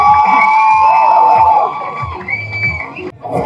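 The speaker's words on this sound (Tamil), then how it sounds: "இன்னொரு நல்ல கைத்தட்டல் கொடுக்கலாமே ப்ளீஸ்." An audience at a film first-look launch event cheers and whoops loudly, the noise fading to a quieter murmur in the second half.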